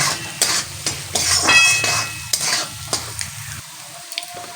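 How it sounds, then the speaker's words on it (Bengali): Spices with turmeric and salt fry lightly in a pan for a lau dal, a bright sizzle broken by repeated spoon scrapes and clinks that thin out toward the end. "এবার এটাকে হালকা একটু ভেজে নেব।"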